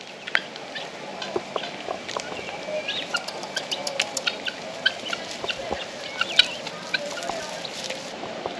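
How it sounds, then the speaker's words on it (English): Guinea fowl at an island resort campground under trees give repeated sharp, chattering calls in irregular bursts, moderately close over a steady outdoor background. "Here's your guinea fowl."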